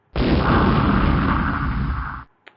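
A loud, sustained burst sound effect fired off as a PowerPoint text animation plays, a single blast lasting about two seconds and then cutting off abruptly, followed by a brief faint tick, with no talking over it.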